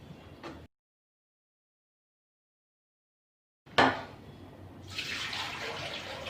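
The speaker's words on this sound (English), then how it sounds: "Add any amount of water." Water is poured into a Thermomix TM6, a short splash followed after a silence by a sudden gush and then a steady hissing stream filling the jug, close and moderately loud.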